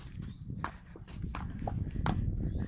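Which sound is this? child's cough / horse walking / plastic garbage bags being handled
horse walking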